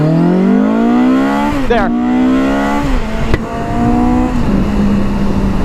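A BMW K1300GT motorcycle pulls hard from a standstill to 60 in first gear, its engine note climbing loudly in rising sweeps with a couple of brief dips, close up, while a voice says a single word.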